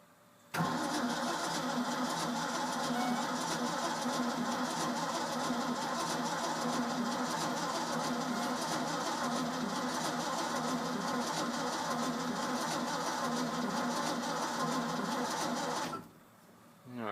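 A Ford F-600 truck engine cranks continuously for about fifteen seconds without catching, a steady loud churning starter drone that stops abruptly near the end.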